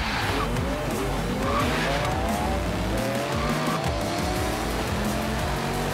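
A Dodge Charger races in a Forza Horizon 3 multiplayer event, its engine roaring loud and continuous with rising and falling revs and tires squealing through corners.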